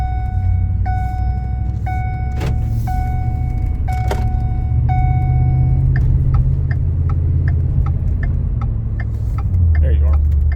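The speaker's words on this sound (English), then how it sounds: "It's a very good running truck." A 2011 Ford F-150 Harley-Davidson truck sits with its engine running in a steady low rumble, joined by a repeating electronic chime and some clicks, loud and close, while a person talks at times.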